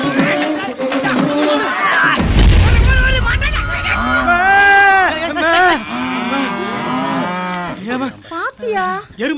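Buffalo moos loud and close, long harmonic bellows repeated several times over a rumbling low crash, with people talking in between.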